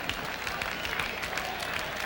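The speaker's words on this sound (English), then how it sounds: "Those fans start clapping for a strikeout." Ballpark crowd at a 1978 Yankees game applauding a strikeout, a steady wash of distant clapping and crowd noise with no clear talk, continuous across the moment.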